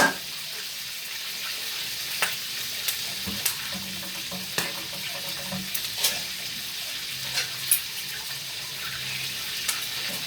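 Dishes being washed under running water in a home kitchen, a steady hiss of the tap with scattered clinks and knocks of crockery, while food fries nearby at a fairly low level.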